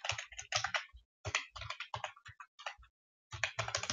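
An image filename is typed on a computer keyboard in quick, close bursts of light key clicks, broken by short pauses.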